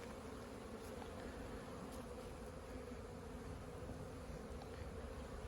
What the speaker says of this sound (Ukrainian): Сьогодні ми на пасіці, наші сімейочки сьогодні роблять повноцінний обліт.